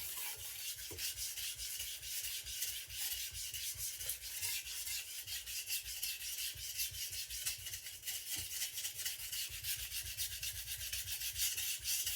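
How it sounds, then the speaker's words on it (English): Chef knife of hard MagnaCut steel being sharpened at a low angle on a whetstone, a continuous close gritty scraping with rapid rhythmic strokes, steady and unbroken over a quiet background. "You sharpen this low, sometimes the knife just sucks onto the stone."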